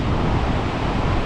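Steady east wind buffets the microphone on a beach at low tide, a loud, continuous broadband roar with surf-like rumble and no voices.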